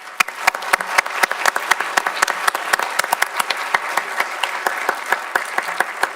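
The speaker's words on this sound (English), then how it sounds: "can we give our 3 panellists a huge round of applause?" A conference audience applauds three panellists at a transparency summit with sharp, distinct claps, steady and sustained for the whole stretch with no talking.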